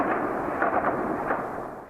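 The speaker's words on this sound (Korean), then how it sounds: "아침이 채 밝기도 전에 도시 전체에 총성과 포성이 울려 퍼집니다" Gunfire and artillery rumble across a city in Ukraine near Kyiv, a dense, continuous roar of distant blasts and booms that fades slightly toward the end.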